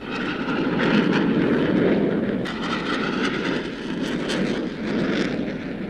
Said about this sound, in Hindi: Ladies and gentlemen, the JF-17 Thunder.